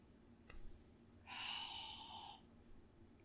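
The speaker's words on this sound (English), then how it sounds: "Listen to his breathing." Michael Myers breathing in the horror film Halloween (1978): a faint, close breath, with a brief puff followed by a longer audible rasping exhale, alone in near silence.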